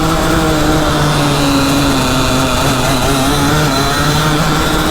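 A powerful go-kart engine, a mini Porsche GT3 RS kart, bogs in second gear, giving a loud, steady, strained drone that holds close and unbroken without rising revs.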